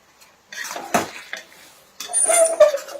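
Aloo methi sabzi stirred in a pan after adding cumin powder and garam masala, with close scraping and clinking bursts of a utensil against the pan, separated by short pauses.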